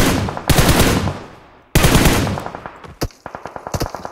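Rapid automatic gunfire from the mobile battle royale game PUBG Mobile, loud and close, with two long sustained bursts followed by a string of quick separate shots.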